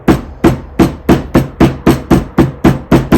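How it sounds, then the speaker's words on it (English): Nine sharp, evenly spaced hammer blows drive a part into place during a Saab 900 axle rebuild, ringing out in a steady rhythm, close and loud, with no voices. "Hammering this down,"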